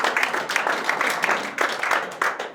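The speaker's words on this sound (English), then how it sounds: "But you can give him a round of applause just to say." Audience applause at a speedway team rider presentation for Stoke Potters, a steady patter of many hands clapping fairly close and loud, continuing alone for a few seconds.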